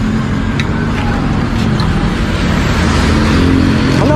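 A car engine running loudly right after refueling with gasoline, a dense, steady close-up rumble that holds throughout with no clear start-up burst, and no speech.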